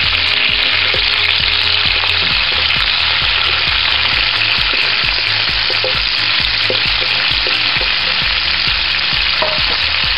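Carrots frying in a pan while being stirred, a loud close sizzle with regular utensil scrapes and taps, steady rhythm of stirring throughout.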